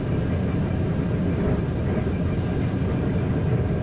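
A train in the Train Sim World 6 video game runs along the track with a steady, dense rumble and rolling noise that holds evenly throughout, with no talk over it.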